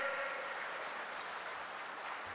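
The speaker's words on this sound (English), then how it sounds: "you have to give him more claps" Audience clapping at a youth conference speech, a continuous even wash of applause from a crowd, moderately loud and unbroken.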